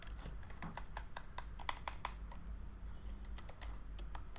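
Quick bursts of keystrokes clatter on a computer keyboard, fairly quiet and close, in uneven clusters with brief pauses.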